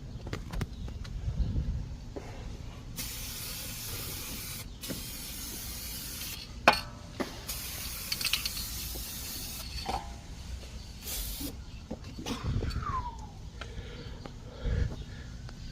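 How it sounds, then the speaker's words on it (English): Spray paint hisses from an aerosol can onto a rusty front strut from a 2012 Nissan Altima, in several long steady bursts with pauses between them, close and moderately loud, with faint background noise. "I kind of touch it out like that with some spray paint"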